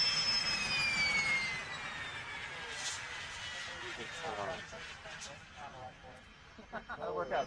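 A pink L-39 Albatros jet lands at Oshkosh. Its engine whines loud and close at first, then fades to a rushing roar as people talk over it.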